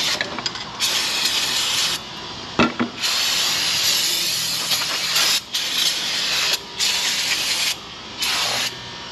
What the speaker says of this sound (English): a little bit more brake clean on our adjuster rod right over here